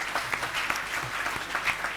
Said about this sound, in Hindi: सभी वॉलंटियर्स जो जिन्होंने फूड कमेटी में काम किया है उनके लिए भी एक बार तालियां बजनी चाहिए।